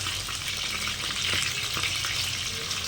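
Ghee fish (nei meen) frying on a tawa griddle gives a loud, steady, close sizzle with a constant crackling hiss and no pauses or voices.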